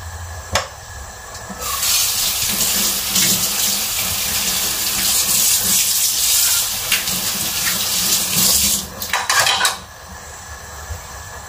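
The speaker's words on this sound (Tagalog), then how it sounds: "Bago mo siya igisa, hugasan mo muna ng hot water" Hot water runs steadily from a tap over broccoli being washed in a sink, a continuous splashing rush with a few clinks of dishes near the start and end.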